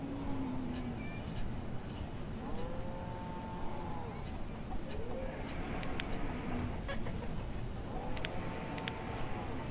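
Chickens clucking in the Banished city-building game, with short cackles and calls rising over steady game ambience and faint clicking.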